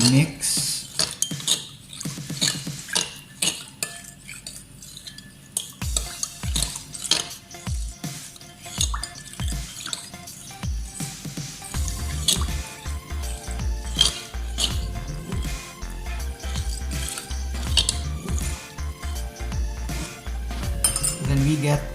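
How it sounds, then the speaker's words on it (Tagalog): Focaccia bread ingredients being mixed in a bowl, with repeated clinks and scrapes of a utensil against the dish. The clicking is sparse at first, then turns into steady, busier stirring with a low rumble, and someone speaks briefly. "Then we mix."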